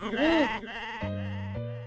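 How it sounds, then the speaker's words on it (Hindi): Goat bleating sound effect in a Hindi TV comedy: one short, wavering bleat, then a steadier, buzzy tone, close and moderately loud, heard without talk. "कौवे नहीं, बकरी करती है।"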